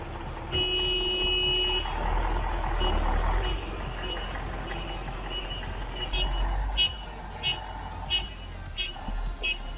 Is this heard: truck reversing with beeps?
yes